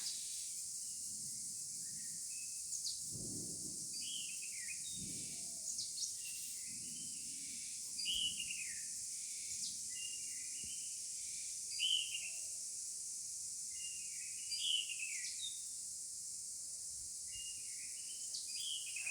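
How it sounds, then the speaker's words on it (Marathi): Faint birdsong with scattered chirps and short whistled calls at a distance in farm fields during a finger millet harvest, over steady insect-like hiss and occasional low rustling. "मस्त असं पक्ष्यांचा आवाज ऐका घेता"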